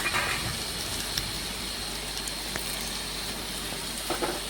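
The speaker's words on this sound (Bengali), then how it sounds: "বেশ কিছুক্ষণ সময় নিয়ে নাড়াচাড়া করে একটু আলুগুলো ভেজে নিচ্ছি হলুদ গুঁড়ো, লবণ আর জিরে সর্ষে বাটা দিয়ে" Potatoes fry in a pan with turmeric, salt and cumin-mustard paste, giving a steady low sizzle and hiss with occasional soft scraping stirs, close by and unbroken by talk.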